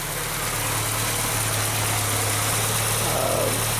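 A cold Volkswagen Rabbit engine with CIS fuel injection idles steadily, a continuous low mechanical drone with faint vibration and a slight roughness, close up and without speech.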